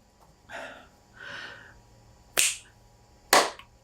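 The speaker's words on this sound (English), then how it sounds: "I will then do that thing where I clap my hands and then I'll pause a little bit." Two sharp, single hand claps ring out close by, spaced about a second apart, while someone films in a quiet room. Softer breathy sounds come just before them.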